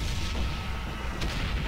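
Artillery bombardment in the World War One video game Valiant Hearts: The Great War, a dense continuous low rumble of distant shelling with a sharper blast near the end.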